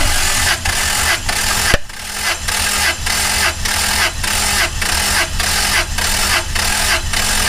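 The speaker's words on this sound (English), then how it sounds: "Put the gas pedal all the way to the floor and crank it over till I tell him to stop." A car engine cranks over on the starter during a compression test with the gas pedal held to the floor, giving a steady, loud, evenly pulsing whir of repeated compression strokes for several seconds with no talking.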